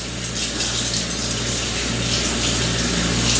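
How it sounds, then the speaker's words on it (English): Tap water runs in a steady, loud gushing stream while a washcloth is rinsed under it at home, close up and with no voices. "Rinse the washcloth out."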